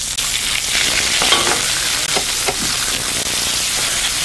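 Ham and onions stir-fried in a wok, a steady loud sizzle with scraping and tossing of the spatula throughout, no talking.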